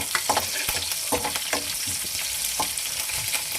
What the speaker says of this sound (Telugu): కరివేపాకు ఎండుమిర్చి ఉల్లిపాయలు వీటిని కూడా మంచిగా ఫ్రై చేసుకోండి